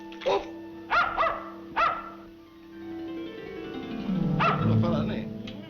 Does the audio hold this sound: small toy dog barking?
yes